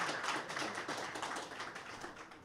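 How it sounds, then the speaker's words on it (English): Scattered clapping from a small audience at a football club awards evening, a steady wash of hand claps for about two seconds, fairly faint and fading slightly toward the end, with no talking over it. "So I'm sure you all deserve a round of applause."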